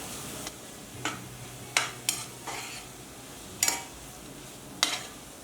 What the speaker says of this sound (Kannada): ಎಣ್ಣೆಯಲ್ಲಿ ಈ ಥರ ಫ್ರೈ ಆಯ್ತಂದರೆ ಬಾಳಿಕೆ ಬರುತ್ತೆ